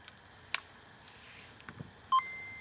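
After a game is inserted, a Game Boy Color with a repaired speaker sounds its short, bright startup ping near the end. A few faint clicks and handling noises come before it in a quiet room.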